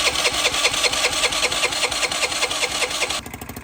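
A battered scooter engine is spun over and catches, a steady rapid mid-pitched putter that runs loud and close, then changes character near the end.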